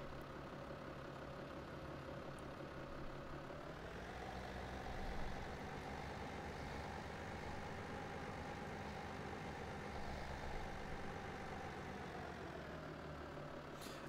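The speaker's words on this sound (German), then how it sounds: "auch im Leerlauf hört er sich komplett anders an" Steady low rumble of an idling tractor engine in Farming Simulator 17, constant and unchanging for the whole stretch, with a slight shift in tone partway through.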